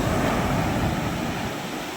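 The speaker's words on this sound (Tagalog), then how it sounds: "Abot sa atin ng tubig mga kamig. Sa laki ng gulong." Big typhoon-driven waves surge against a fish terminal in Tanza, Cavite, a loud, close, steady wash of churning water with wind noise on the microphone, easing slightly toward the end.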